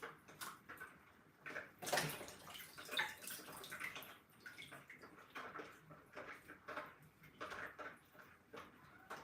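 Tilapia rinsed under running water for a spicy soup: faint, uneven splashing and trickling with occasional louder gushes and small clinks, quiet and close.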